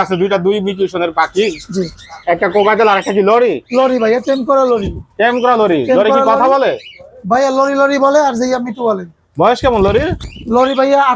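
Alexandrine parakeets and other caged birds at a bird market in Bangladesh give loud, harmonic squawks and calls in close, rapid bursts, one after another with brief gaps, filling the whole stretch.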